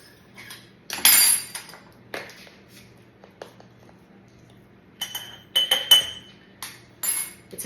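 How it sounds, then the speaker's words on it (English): Salt and other ingredients go into a glass mason jar for a Greek-yogurt poppy seed dressing, giving a few close, sharp clinks and taps of glass and utensils in short bursts between quieter pauses. "you'll first grab a mason jar, and we're going to add a ½ teaspoon of salt"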